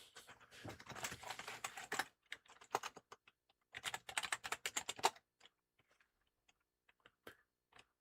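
Rapid keyboard typing at a computer during a Championship Manager 3 football-management session, with dense clattering bursts from 0 to 2 s and 4 to 5 s, then sparse isolated keystrokes; close, alone, no talk.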